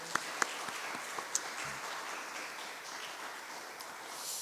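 Church congregation at a Wednesday worship service applauds, a soft steady wash of distant clapping with a few sharper claps near the start, continuing evenly without speech.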